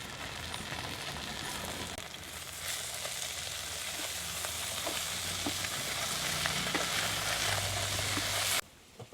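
Drumsticks frying in oil for a Jaffna-style prawn curry, a continuous crackling sizzle up close with occasional light stirring ticks, steady throughout until it cuts off near the end.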